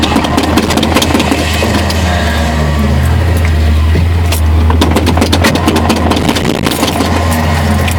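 A Ford Ranger pickup with a 302 V8 idles right after a cold start, a loud, steady low rumble running throughout with an uneven, lumpy pulse.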